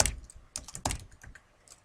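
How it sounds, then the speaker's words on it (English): Keystrokes tapped on a computer keyboard while entering text into a web page editor, a quick run of close, crisp clicks with a couple of louder presses, no voices. "And then type corn maze"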